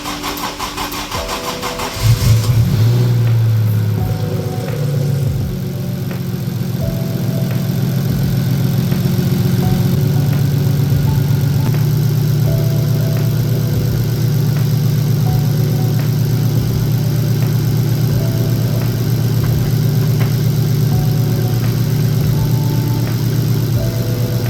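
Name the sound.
Toyota 1JZ/2JZ car engine idling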